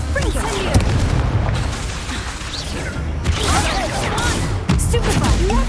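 A Confringo fire spell in a Harry Potter video game bursts with booming impacts and crackling magic effects over a dense, continuous game soundscape, loud and busy throughout.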